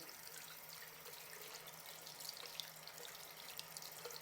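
Water from a tap rinsing the small filter of an Earlex 6700 paint sprayer gun, a steady, quiet splashing rush with faint drips, close and continuous, no talking.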